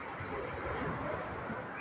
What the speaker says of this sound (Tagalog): Kasi yung pag mababaw ang buhangin, gaganon talaga siya yung alon niya.